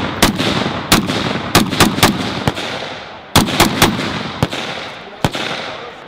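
Sharp rifle shots from a short Troy rifle at an outdoor range day, about a dozen loud cracks in irregular clusters with brief echoing tails, no talking between them.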